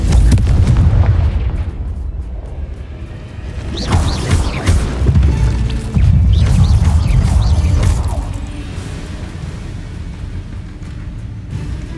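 Confringo spell blasts in a Harry Potter video game, deep booming explosions with rumbling debris and crackling bursts that swell and fade in waves over a loud low roar.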